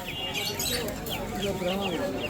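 Brahma chickens clucking among other birds at a large bird market in Khulna division, short clucks and chirps close by under steady crowd chatter and nearby talk.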